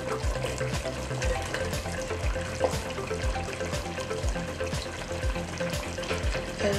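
Carrots tumble into a pot of chicken curry with turmeric, cooked in olive oil with a little water, and get stirred through. Steady sizzling runs throughout, with scraping and clunking of the spoon in a rhythmic pattern. No one speaks.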